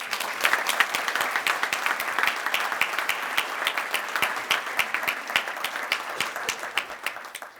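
Audience applause welcoming a student speaker to the podium at a chamber of commerce legislative breakfast, a dense, steady patter of many hands clapping close by, sustained and even throughout.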